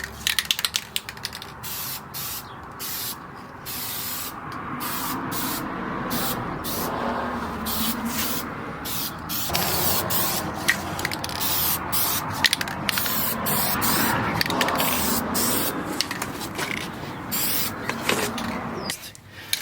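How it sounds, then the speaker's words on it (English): Long bursts of aerosol spray paint hissing close up onto a Hummer H2 plastic front bumper, broken by short pauses between passes, with faint rubbing and handling noises in between. "One of the things that I like about the spray tip on this can is the angle."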